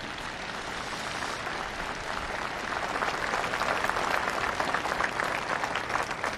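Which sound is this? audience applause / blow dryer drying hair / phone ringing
audience applause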